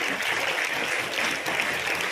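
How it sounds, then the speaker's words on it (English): An audience at a convent canonical visitation program applauds in a brief, steady wash of clapping, many hands at even loudness throughout. "On behalf of us, we applaud you."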